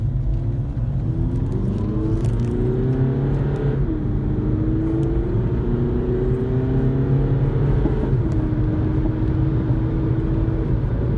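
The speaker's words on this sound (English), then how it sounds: "I'm downshifting through the gears manually." An Audi A3 engine drones steadily from inside the car as the driver manually downshifts, the pitch stepping to a new level twice, with a continuous low rumble and no speech.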